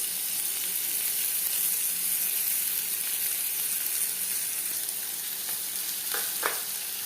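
Crushed ginger and garlic sautéing in a pan for tomato pulao give a loud, steady sizzle up close, broken by a few light clinks of a utensil near the end.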